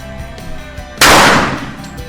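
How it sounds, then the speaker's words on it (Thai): A single loud pistol shot from a Nighthawk handgun rings out at a shooting range, a sharp blast that decays quickly after a quiet stretch with faint background noise. "จะทดสอบยิงครับ ระยะสิเมตรเชิญเลยครับ"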